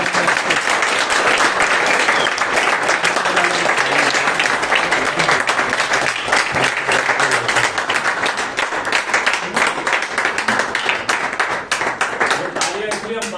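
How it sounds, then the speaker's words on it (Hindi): A theatre audience gives loud, dense applause after the closing performance of the play Charulata on the fifth day of the 18th Natsamrat Natya Utsav in 2021. The clapping stays close and unbroken for over thirteen seconds. "एक बार और जोरदार तालियां"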